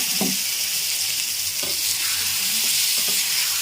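Bottle gourd and tomato chutney fries in a hot pan, giving a steady hiss with a few spoon scrapes and stirring clinks spread across it, close and fairly quiet.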